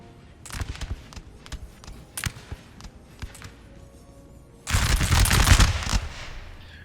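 Gunfire crackles through a Napoleon: Total War battle, with scattered sharp musket shots early on, then a dense, loud volley of massed fire near the end.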